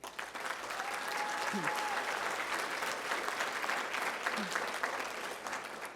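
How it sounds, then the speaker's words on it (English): A crowd at an awards ceremony claps steadily in sustained applause, dense and even, lasting several seconds with a faint voice briefly audible underneath. "Let's give them a round of applause."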